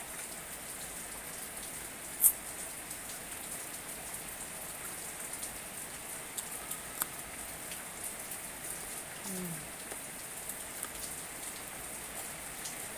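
Steady rain falls continuously, a soft even hiss of drops on a surface with no voices, plus a few brief faint clicks.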